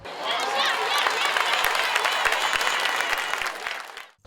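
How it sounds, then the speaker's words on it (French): An audience at a formal gathering applauds an ambassador, sustained dense clapping that swells quickly, holds steady for several seconds, then tapers off abruptly. "que je voudrais que nous acclamons fortement"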